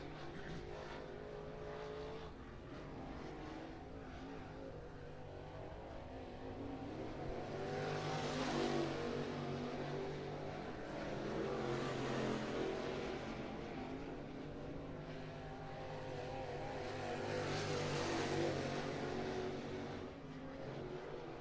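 Race cars lapping Muskingum County Speedway in Dresden, Ohio, with engine roar swelling and fading three times as cars pass by at a steady distance over a continuous background drone.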